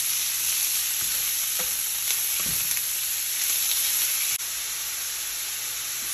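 Ground beef frying with browned onions in a pan, a steady dense sizzle holding at an even level throughout, with a few faint scrapes and knocks from stirring.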